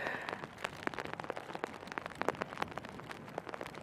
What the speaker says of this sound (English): Sophie, I can feel the rain because I'm getting soaked.